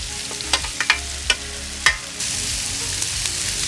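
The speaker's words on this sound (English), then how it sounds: "I've already turned our Blackstone on. It's at medium. We're going to go ahead and put our wings on here." Chicken wings laid onto a Blackstone flat-top griddle at medium heat, with several sharp clanks and taps before a steady sizzle swells up and holds, close and fairly loud.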